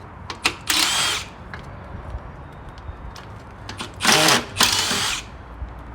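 A power driver backs out hinge screws from an old window in two separate whirring bursts, close and fairly loud, with faint knocks and handling noise in the quiet between them.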